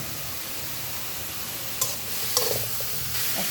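Onions sizzle in hot mustard oil at the start of a goat meat curry. A continuous, dense crackling hiss plays close by, with a few light stirring knocks partway through and no voices.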